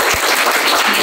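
A crowd applauds with dense, steady clapping that fills the whole moment, loud and continuous.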